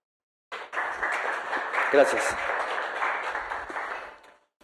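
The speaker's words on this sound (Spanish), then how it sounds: "les pido un aplauso" Audience applause for a cloud project developer being introduced at a talk event, a steady wash of clapping from a full room lasting several seconds, with a brief spoken word over it near the middle.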